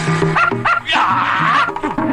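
A dog barks and yips several times in a comedy film scene, in a quick series of close, sharp calls with a longer whining stretch in the middle.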